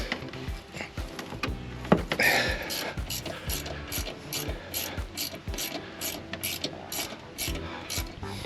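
A ratchet wrench loosens a bolt on RV disc brakes with rapid, evenly spaced clicking, close and crisp, after a brief clank of metal near the start.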